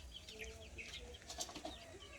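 Faint clucking from a live chicken bought for dinner at a rural home, soft repeated calls close by over a light background hum.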